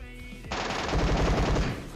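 Gunfire in the mobile game PUBG Mobile: a loud, rapid automatic burst of machine-gun shots lasting about a second and a half, preceded by quieter game ambience.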